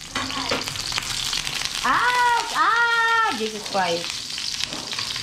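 Garlic frying in a pan, a steady hiss of sizzling oil running throughout while a person talks over it and a high, meow-like vocal sound rises in the middle.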